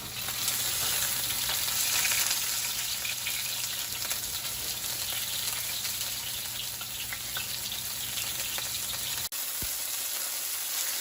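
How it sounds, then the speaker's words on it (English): Cornstarch-coated beef sears in hot oil in a wok for Mongolian beef, a loud, steady sizzle running unbroken for about nine seconds before a brief dropout and a quieter close. "Now try to get that nice sear on the meat using that cornstarch."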